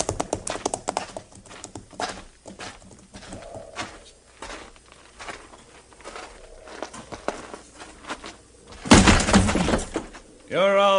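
Horses' hooves in a 1950s Western radio drama set around Fort Laramie, as stolen horses are rounded up: scattered clopping and scuffing mixed under voices, with a louder burst of commotion near the end.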